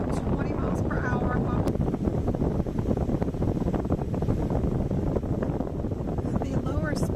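A small car fan running on its high setting gives a steady, loud, rushing whoosh of air with no change in level from start to finish.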